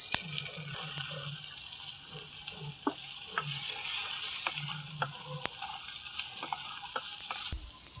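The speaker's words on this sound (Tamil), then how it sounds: "வெங்காயம் வதங்கிட்டு தக்காளி சேர்த்து வதக்கிக்கலாம்" Onion and tomato sauté in a pan with a continuous soft sizzle, punctuated by occasional stirring clicks and scrapes.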